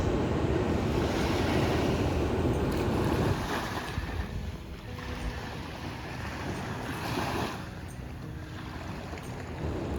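Ocean waves wash onto a beach in Charleston, South Carolina, with a steady broadband roar and surges of surf. Gusts of wind buffet the microphone, and no one speaks.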